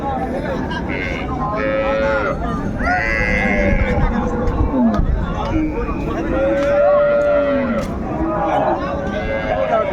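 Cows and calves at a busy rural cattle market in Ranigonj, Dinajpur, give drawn-out lowing calls over continuous crowd chatter and shouting traders.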